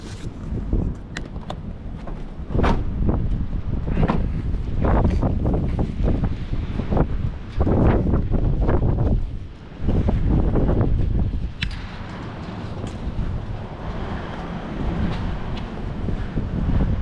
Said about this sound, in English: Wind's blowing pretty good today.